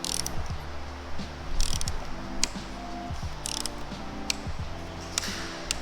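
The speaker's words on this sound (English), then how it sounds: "up at the top mount, you're gonna want to tighten that up to 15 foot-pounds" A torque wrench tightens the windshield mount bolts on a Honda Grom fitted with a T-Rex Racing windshield, giving a steady run of close mechanical ratcheting clicks over a low background hum, with no talk.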